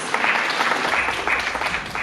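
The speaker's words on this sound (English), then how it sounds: "Let's give another round of applause for our incredible contestants and for their impeccable style and grace." Audience applause for beauty pageant contestants at an inaugural pageant, a dense wash of many clapping hands, steady and fairly loud throughout.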